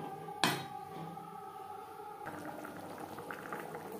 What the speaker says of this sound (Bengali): চার 5 মিনিট গ্রেভি বেশ ভালো করে ফুটিয়ে নেব